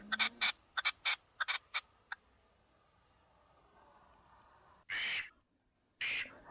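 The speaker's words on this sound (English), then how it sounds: "partridge." A partridge calls in a burst of short, sharp repeated notes at the start, followed by quiet and then two louder, longer harsh calls near the end.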